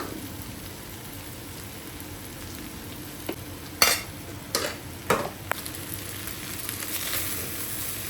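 Cooled cooked rice is stirred into mixed fried rice in a pan over high flame, a soft steady sizzle punctuated by a few sharp spatula scrapes and taps.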